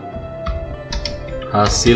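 A Tab key is pressed on a computer keyboard during a Java programming tutorial in NetBeans, with a few close, quick key clicks and clatter over a background hum.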